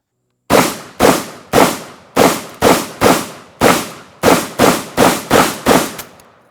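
A Vepr 12 shotgun fires Winchester 12 gauge ammunition in a rapid string of about thirteen loud, sharp reports, each cutting off quickly before the next, close and alone without speech.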